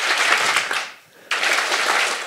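A science slam audience in Freiburg claps on cue, a dense burst of applause that stops briefly for about a second, then resumes just as loud and sustained.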